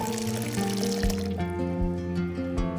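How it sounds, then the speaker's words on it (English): Hot water is poured into a bowl of cashews and dried red chilies for a creamy vegetable pasta sauce. It makes a steady, close pouring and filling sound whose pitch shifts as the bowl fills. "I take some cashews and a few dried red chilies and soak them in hot water"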